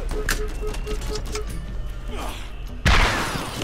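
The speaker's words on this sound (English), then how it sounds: "This rocket launcher is just a little strong." Borderlands rocket launcher fire: a burst of rapid thumps and crackling shots leads into a loud, sudden explosion near the end that rings out and decays, with someone speaking between the blasts.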